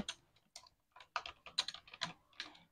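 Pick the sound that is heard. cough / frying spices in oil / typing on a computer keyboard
typing on a computer keyboard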